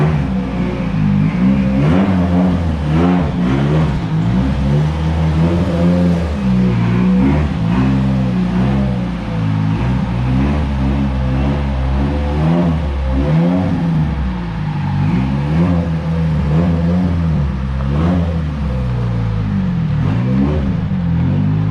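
Nissan S15 with a newly fitted S14 five-speed gearbox driving and revving, engine note rising and falling through gear changes, loud and close from inside the car with steady road rumble throughout.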